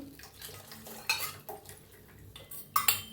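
A spoon clinks and scrapes against a pot while custard milk is stirred, a quiet, close sequence of irregular metallic taps and short scrapes with a few louder knocks.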